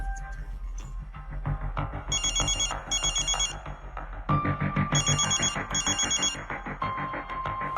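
A telephone rings as Abhinav places a call to Raghuvir in a Telugu drama scene: two bursts of a trilling double ring, fairly loud and close, layered over a steady, thumping background score with no talking.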